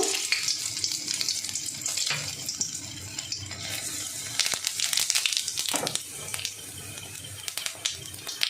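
Dry red chillies, asafoetida and cumin seeds hit hot oil in a pan, a loud continuous sizzle and crackle with occasional clinks and rustles, close up and without speech.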